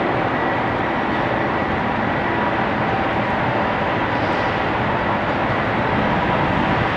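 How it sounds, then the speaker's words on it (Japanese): An out-of-service Asahiyama Zoo train with damaged wheels rolls into a station platform, a loud, steady, broadband rumble filling the whole stretch without pause. "列車が到着します。"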